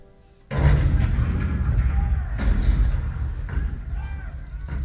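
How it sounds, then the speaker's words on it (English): A sudden heavy boom of cannon fire breaks a quiet moment, followed by a long rumbling roar with more distant blasts layered in, in a theme-park attraction's narrated show. "The cannon spoke for war, bitter, violent, and devastating."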